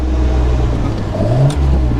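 An MG MGC GT engine revs and accelerates loudly and close by, a steady rumbling drone that swells briefly toward the end with no speech over it.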